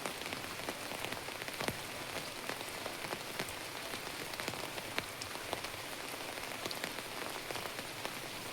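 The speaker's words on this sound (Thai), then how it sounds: "บรรยากาศฝนตกลิ้น บรรยากาศดีเวอร์" Steady rain pours down on a surface, a dense, even patter of drops lasting throughout with no talking.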